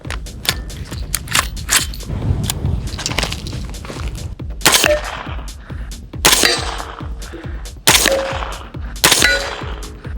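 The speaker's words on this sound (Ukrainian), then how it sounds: "цей український пістолет кулемет 919, 4 постріла" A Ukrainian 9x19 submachine gun fires a few loud, sharp shots at armor plates at irregular intervals, each with a metallic crack and ring, separated by quieter outdoor background noise.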